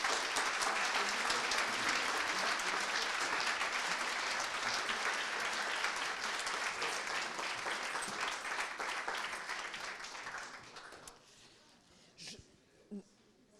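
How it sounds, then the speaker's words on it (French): A conference audience applauds speaker Serge Hefez after his talk on reinventing gender, a dense, sustained wash of clapping that gradually thins and dies away, leaving faint room noise and a few stray sounds. "Je pense qu'on peut l'applaudir."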